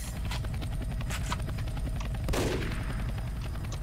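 Rapid gunfire rattles over the steady whir of a helicopter in the Roblox game Redwood Prison, with repeated shots and a louder burst near the middle.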